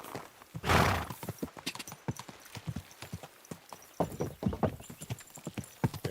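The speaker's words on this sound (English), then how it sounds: "There's a horse here." Horse hooves clopping in a steady walking rhythm with a loud whinny early on, from the medieval open-world game Kingdom Come Deliverance II, close and clear with little else over it.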